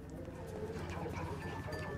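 A bird coos softly inside the Rainbow Friends video game, a low repeated dove-like call set against a busy game soundscape.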